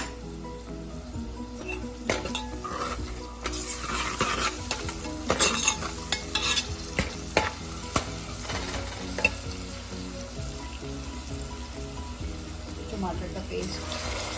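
Onions fry in a pan with crushed ginger, garlic and salt added, giving a steady sizzle broken by scraping, clinking stirring strokes, close and moderately loud.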